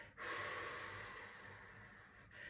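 A long, steady breath drawn in deeply during a breathing and pelvic mobility exercise, broad and airy, continuing close and unbroken for about two seconds before a second breath begins.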